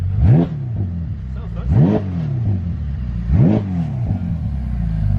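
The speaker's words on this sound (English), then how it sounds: "So that's very low revving, but I can vouch for the fact that is a lot louder than standard" A Ferrari 488 Pista fitted with an Inconel exhaust is revved up close in three short, sharp blips that each rise and fall away, with a low idle burble between them and brief talk alongside.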